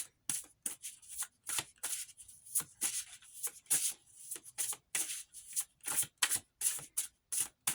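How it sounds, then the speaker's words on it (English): Playing cards are shuffled over and over, quick riffling bursts in a steady rhythm, close and fairly quiet with no voices. "One more shuffle."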